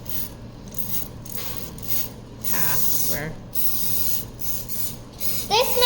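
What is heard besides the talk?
spray being applied while baking madeleines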